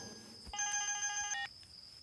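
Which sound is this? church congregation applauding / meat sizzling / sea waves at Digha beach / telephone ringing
telephone ringing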